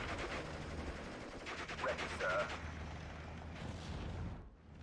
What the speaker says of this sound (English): Get the mortar to engage.